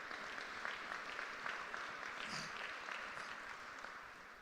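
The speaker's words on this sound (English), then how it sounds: "give him a round of applause wherever he is" A faint, distant round of applause from the crowd at a school campus ribbon-cutting ceremony, a soft continuous patter of clapping that tapers slightly toward the end.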